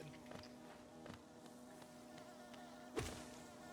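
Bees buzz around the hive area of the video game Hollow Knight, a faint, steady insect drone with a low hum, heard alone with a brief louder blip near the end.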